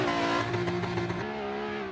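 Race car engine in the Assetto Corsa racing game, a loud sustained tonal drone that holds steady near the rev limiter and shifts pitch partway through, with no talk over it.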